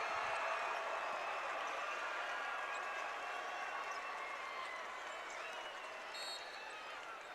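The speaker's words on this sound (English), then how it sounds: "that one's got the Nixa crowd buzzing" Basketball crowd at a 2012 Missouri high school boys semifinal buzzing after a dunk, a steady loud roar of cheering and applause that holds throughout and eases slightly toward the end.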